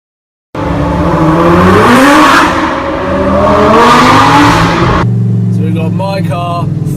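Lamborghini Gallardo with a full Armytrix exhaust system revving loudly, its engine note climbing and falling in two long surges before a voice speaks over a lower idle.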